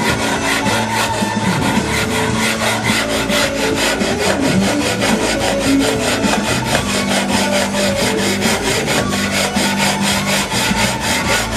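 A file rasps steadily against the ends of steel guitar frets while they are bevelled during a refret. The scraping is close and continuous, with a constant rhythmic grind and no speech.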